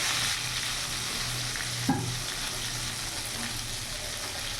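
Bay leaf, whole cumin and whole garam masala tempering in hot refined oil, a steady broad sizzle and crackle with a brief sharp pop near the middle.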